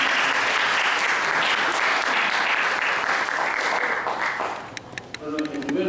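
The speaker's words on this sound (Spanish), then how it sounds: "les pido un fuerte aplauso al doctor Jiménez" An audience at a criminal procedure law lecture in Peru gives a lecturer a long round of loud, dense applause, which fades near the end to scattered claps and a brief voice.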